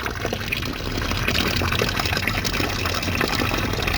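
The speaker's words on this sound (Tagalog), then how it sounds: "Yun na lalabas na tubig dito." Hot water from a tank gushes out in a steady, continuous rush that fills the whole stretch at close range with no speech over it.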